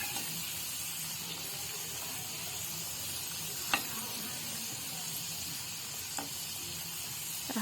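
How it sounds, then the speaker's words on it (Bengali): Pea-stuffed kachori made with wheat flour fry in hot oil, giving a steady, close, even sizzle with a couple of faint clinks and bubbling pops. "ভাজা হয়ে গেলে আর একদিকটা আমি উল্টে নেবো"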